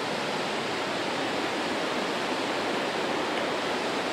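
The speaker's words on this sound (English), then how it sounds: "if you look, you can see the weir right through the water." Water pours over a stone canal feeder weir in an even, continuous rushing wash, steady and fairly close with no talk.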